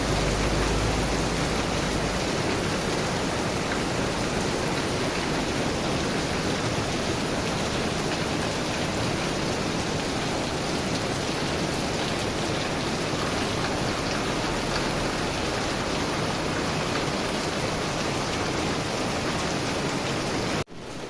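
Heavy evening rain pours down steadily near Khlong Sam Wa in Min Buri, Bangkok, a loud, unbroken hiss that carries on alone with no speech, cutting off abruptly at the very end.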